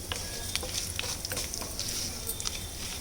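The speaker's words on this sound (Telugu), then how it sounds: "అది కాలే లోపల ఈ తాలింపు చేస్తుంది" Mustard seeds, urad dal, cumin, chana dal and dried red chillies tempering in hot oil for mango pulusu, a dense close sizzle with crackling pops and light stirring, no voices.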